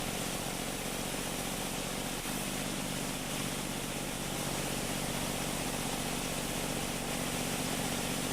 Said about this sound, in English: The little auger, man, it can move some beans.